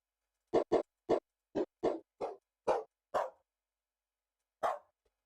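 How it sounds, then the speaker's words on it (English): A dog barks about nine times in sharp, loud, close single yaps, first in a quick run and then spaced wider, with a final bark after a pause. No voices are present. "Chelsea, that is your dog."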